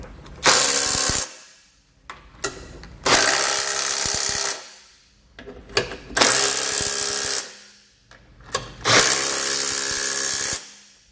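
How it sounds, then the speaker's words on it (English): A 17mm socket on a power tool snugging down Curt trailer hitch hardware on a 2020 Subaru Ascent, four loud whirring bursts of a few seconds each with short pauses between. "we'll grab that same 17mm socket and snug it all down"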